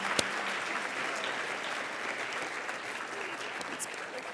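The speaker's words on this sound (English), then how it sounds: "Let's give a round of applause for all our awardees." Steady applause from the crowd at a Martin Luther King Jr. Day celebration, honoring the awardees, dense and even throughout with no voices on top.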